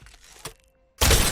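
A faint thud gives way after a brief silence to a loud, sharp shattering crash, a hit impact in the shooter BPM: Bullets Per Minute.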